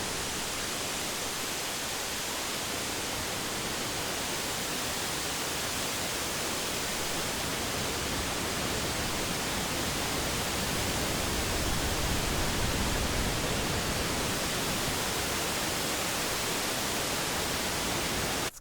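A synthesized sound-design patch for a video game scene produces a continuous, sea-like wash of broadband noise, steady and full for nearly twenty seconds, swelling slightly in the later part like surf without distinct waves.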